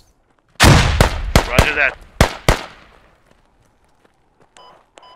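Several loud grenade blasts burst in quick succession during squad-based shooter gameplay, close and booming, then fade into quiet with a few electronic beeps; a voice speaks briefly.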